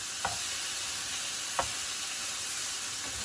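Beef browns in a pan with Worcestershire sauce and a little beef broth, a close, steady sizzle broken by two or three soft scraping stir strokes, with no voices.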